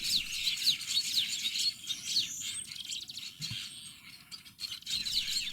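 Yellow weaver birds with black heads chirp busily around their nest on the Maasai Mara, a steady overlapping chorus of high tweets and calls, moderately near, with a soft rustling bed underneath.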